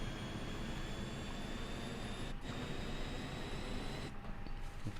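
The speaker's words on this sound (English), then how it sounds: "that's the APU coming on" An Airbus auxiliary power unit in Microsoft Flight Simulator spools up as a steady, dense engine roar with a thin high whine, holding loud and constant throughout with brief dips near the middle and end.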